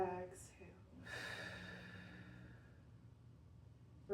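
A single soft exhale during a seated mobility exercise, a brief airy breath near the mic after a quick inhale, fading into quiet room tone.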